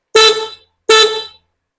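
Two short electronic horn beeps from an electric bike, evenly spaced, loud and close, with silence between and after them.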